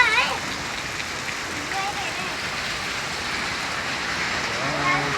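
Heavy rain pouring steadily outdoors, a dense, loud hiss of falling water that runs throughout, with occasional faint tonal sounds in the background.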